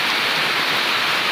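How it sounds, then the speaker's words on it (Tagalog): Heavy rain pours steadily in Poblacion, Baclayon after falling all night, a dense, unbroken hiss close by with no voices over it. "Saka hindi lang basta ulan, malakas na ulan."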